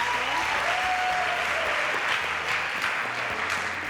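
A studio audience claps steadily and fairly loudly for several seconds after a cooking show meal of Marugbo soup, the dense applause holding an even level throughout with a faint voice beneath it.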